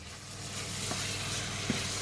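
Meat sizzling in a full 28 cm frying pan with tomato paste and broth, a steady close crackle with a couple of faint stirring knocks.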